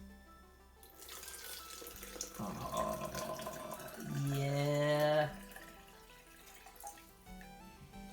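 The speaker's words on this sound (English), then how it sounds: "So let's just add the water." Water is poured into a container, a steady gush that rises in pitch as the vessel fills, swelling louder near the end before stopping, with a brief spoken remark.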